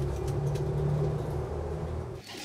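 Low, soft cooing of pigeons close by, a steady murmuring drone that fades out near the end.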